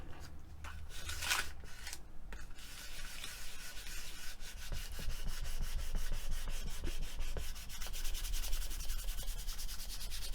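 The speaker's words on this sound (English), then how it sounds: "let's give it a good old burnish." Polymer clay covered in metallic leaf being burnished by hand, a steady close rubbing and scraping that runs the whole time with no talk.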